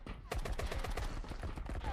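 Gunfire in an online shooter game, a rapid burst of sharp shots in quick succession, fairly close and dense, with no speech over it.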